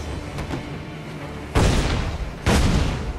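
Two heavy cannon blasts from a ship's broadside in the pirate game Assassin's Creed IV: Black Flag, each a loud booming burst with a long rumbling tail, following a stretch of low murky background.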